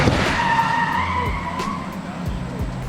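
A car skids with a loud, sustained tire squeal, the screech wavering in pitch for a few seconds over engine and road noise, heard close and unbroken as in a crash sound effect.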